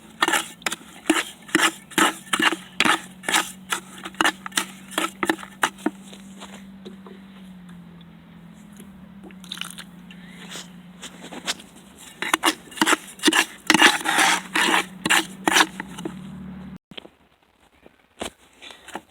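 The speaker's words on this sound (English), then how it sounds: "start mixing with your trowel" A trowel mixes foundation crack patching compound for superficial foundation cracks, making repeated rhythmic scraping and rasping strokes against the container, steady and close, with a brief pause midway before the strokes resume.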